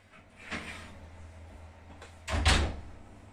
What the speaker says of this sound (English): I'm going to open the oven and very slowly and carefully pop it in